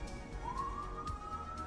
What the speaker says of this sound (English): the sirens have been going nuts all weekend